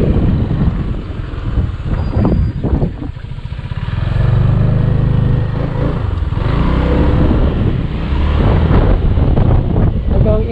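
A Cruisym 400cc scooter engine drones at speed under heavy wind buffeting on the microphone, loud and continuous throughout.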